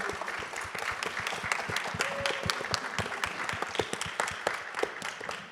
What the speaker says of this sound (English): I want a good, solid round of applause for each of you.